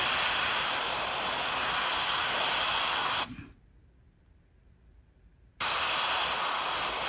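An airbrush spraying paint over a stencil onto a 3D printed figure, a steady close hiss that cuts off abruptly for about two seconds, then resumes at the same strength.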